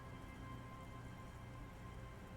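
Steady rain patters and drips on surfaces around an old church beneath an elm tree in the game Disco Elysium, forming a continuous, even wash of droplets with no voices.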